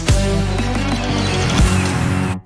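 Electronic, non-acoustic drum fills in an FL Studio mix, dense pitched synth layers with sweeping downward hits and booming low thumps, loud and continuous before cutting off abruptly at the end.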